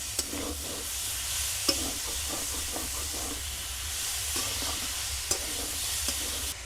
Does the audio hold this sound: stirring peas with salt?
yes